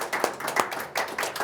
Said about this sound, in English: So let's give a round of applause to